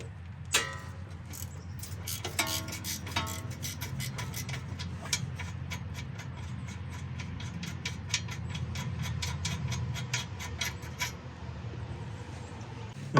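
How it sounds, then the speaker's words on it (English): Ratchet and wrench clicks come in short bursts while a 14mm pinch bolt is worked out of the lower ball joint on a 100,000-mile Subaru Forester, close up over a low steady background hum. "Next, we'll take out our 14mm pinch bolt here for our lower ball joint."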